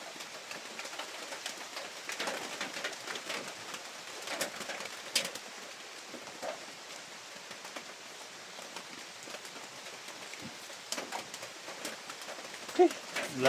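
Rain in a video game falls as a soft, even hiss across the whole stretch, with scattered drop taps and a bird cooing now and then. It stays faint and steady throughout.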